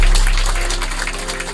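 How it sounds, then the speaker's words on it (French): Applause from an audience at a restaurant grill opening fills the space, a dense, steady patter of clapping that fades slightly toward the end, with no voices over it. "On leur donne encore une bonne main d'applaudissement"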